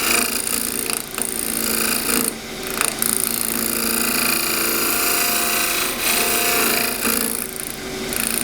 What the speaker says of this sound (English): I'm getting a nice little slicing cut up there with a shear scrape